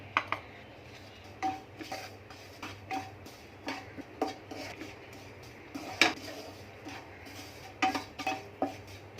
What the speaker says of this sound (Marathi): त्या पण थोड्या शेकून घेऊया त्यामध्येच हे ड्रायफ्रुट्स पण टाकू